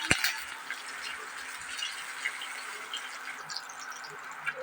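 Peanuts and a green chili frying lightly in oil: a soft, steady sizzle with small crackles and pops, plus a sharp clatter at the very start, faint and unvoiced.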